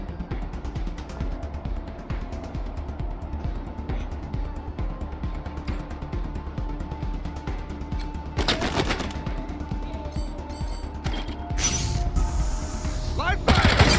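Gunfire in Wasteland 3 rattles in bursts of rapid automatic shots under game music and combat noise, with louder, sharper volleys toward the end.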